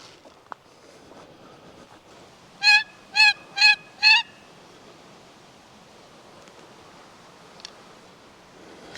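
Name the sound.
wild turkey gobbling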